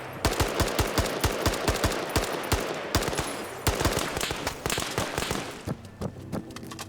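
Gunfire in a video game, rapid bursts of automatic shots cracking in quick succession, loud and close, with brief pauses between strings of fire.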